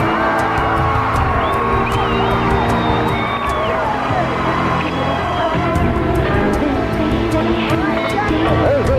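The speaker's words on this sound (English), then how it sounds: "What you're hearing is the new theme song for Billy Jack Haynes." Billy Jack Haynes' wrestling entrance theme song plays loudly in an arena, steady music mixed with crowd cheering and shouts, with talk over it.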